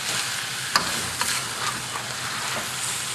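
Eel stir-fried in a hot wok, with steady loud sizzling and a few sharp scrapes and clacks of a spatula tossing the pieces.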